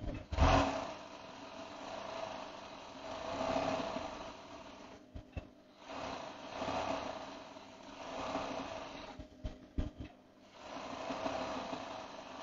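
A sewing machine runs at slow speed while stitching fabric for a child's dress, a soft steady whirring in several stretches broken by brief pauses and small clicks.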